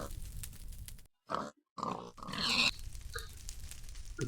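Pig grunts from Minecraft gameplay, a few short snorting calls broken by brief silent gaps, moderately loud and clear against a low background hum.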